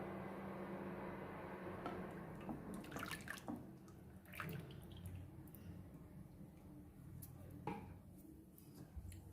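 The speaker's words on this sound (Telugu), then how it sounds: "ఇలా వడగట్టుకున్న బెల్లం నీళ్ళని మనం అదే ప్యాన్లో వేసేసుకోవాలి." Strained jaggery water is poured into a pan, splashing and trickling with a few metallic clinks of utensils against the pan. The sound is soft and close, and a quiet voice murmurs underneath.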